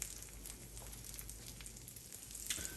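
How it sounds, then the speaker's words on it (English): A brisket quesadilla frying in a pan gives a quiet, steady sizzle with faint crackles and no talking. "starting to fry just a little bit, you want to go ahead and flip that over"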